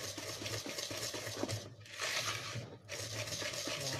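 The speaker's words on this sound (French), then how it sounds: "Là, on met un petit peu, on mélange bien." A spoon stirs marble cake batter of flour and milk in a bowl, a steady close scraping swirl with faint clinks, two brief pauses, and no talk.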